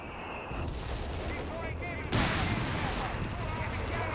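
Mortar shelling in Company of Heroes 3, a sharp burst of explosion noise followed by crackling impacts and rumble over ongoing battlefield din, fairly loud.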